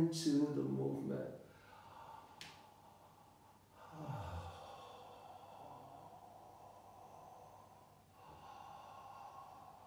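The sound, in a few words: deep breathing during myofascial unwinding movement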